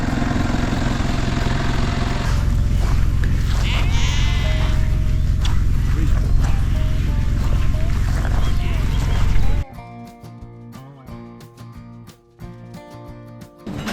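Sheep bleat on a New Zealand sheep farm in the Rubicon Valley, calls rising over steady outdoor noise, followed by a quieter stretch with a different sound bed.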